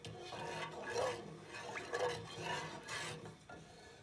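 A spoon stirs milk with salt in a metal pot on the stove, giving soft rhythmic scraping and clinking strokes in a quiet kitchen, heard alone without talk.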